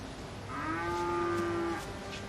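A dairy cow on a 450-cow farm lets out one long, drawn-out moo that rises and holds, moderately close, with no voices over it.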